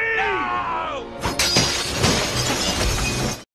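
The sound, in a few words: glass mirror thrown and shattering, Spider-Man film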